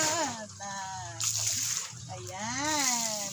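Water poured into a freshly cleaned bucket or basin at a sink area, a steady splashing pour with rising, gurgling tone, close and moderately loud, while someone talks throughout.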